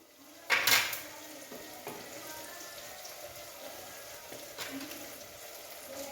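Onions sautéing in a pan for a seer fish curry masala, a steady moderate sizzle with a sharp scraping stir at the start and a few softer utensil knocks later.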